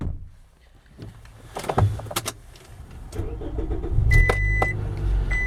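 A 2006 Scion xB with 84,000 original miles cranks and fires up, a short starter whir settling into a steady idle that rumbles close by, with door and interior clunks before it and a brief electric whine during it.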